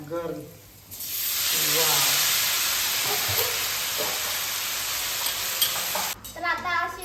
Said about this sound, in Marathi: थोडीशी परतायची भाजी आणि त्याच्यावर झाकण नाही ठेवायचं तशीच शिजवून द्यायची